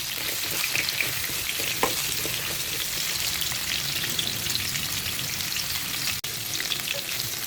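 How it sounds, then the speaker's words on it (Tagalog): Vegetables frying and browning in a pan for chicken curry, a steady close hiss and crackle of oil that holds throughout with a few faint stirring knocks and no speech. "piniprito ko muna yung gulay"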